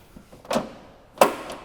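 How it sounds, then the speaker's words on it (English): The door of a 2022 Mini Cooper SE electric car is opened using an interior pull cord, a soft click followed by a sharper latch release and thump, close and brief with no talk. "There's just a pull cord to open the door."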